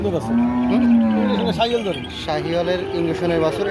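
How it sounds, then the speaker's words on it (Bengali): A white desi cow with her two-month-old calf at the Betaga cattle market in Bagerhat lets out a loud, drawn-out moo up close, followed by shorter calls as people talk nearby. "একটি দেশি জাতের সাদা একটি গাবি সাথে একটি বাসুর রয়েছে"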